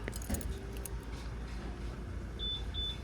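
Motorcycle remote keys for a Yamaha NMAX V3 jangle close by in a short metallic rattle, followed by two faint electronic beeps in a quiet room.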